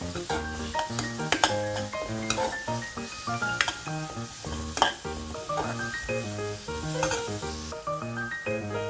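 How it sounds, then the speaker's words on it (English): Onion sautés in a pan for a clam masala, a continuous sizzle with occasional stirring clinks, heard alongside rhythmic tonal sounds. "Saute the onion till it's slightly pinkish."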